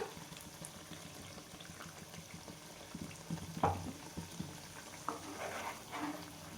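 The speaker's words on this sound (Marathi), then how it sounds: "आणि छान भाजून घ्यायचं आपल्याला हा मसाला किती सुंदर कलर आलेला आहे बघा" Ground masala paste, thinned with a little water, fries in oil in a pan for a drumstick and green pea curry, giving a low steady sizzle with occasional stirring scrapes, fairly faint, no talking.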